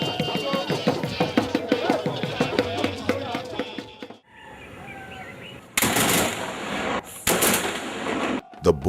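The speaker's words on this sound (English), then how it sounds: "The booming of guns at the ancient Olumo Rock heralded the celebrations of this year's Lishabi Day celebration." A ceremonial gun salute booms at the ancient Olumo Rock during a Lishabi Day celebration: two loud, sustained blasts of gunfire follow a stretch of crowd voices and outdoor murmur.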